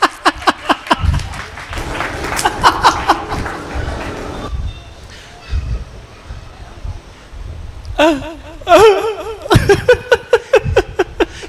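An audience at a live Hindi comedy show breaks into bursts of clapping between stretches of talking, with a fuller round of applause swelling near the end.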